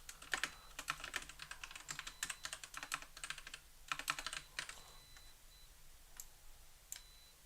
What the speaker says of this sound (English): I didn't finish typing that line